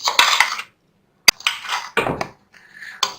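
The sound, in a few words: cooked biryani rice being mixed in a pot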